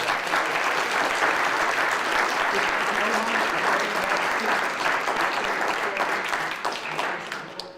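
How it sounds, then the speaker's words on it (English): A luncheon audience applauds a group of college students with dense, sustained clapping for several seconds, holding steady before thinning out at the end. "I'd like all of you to please give them a big round of applause."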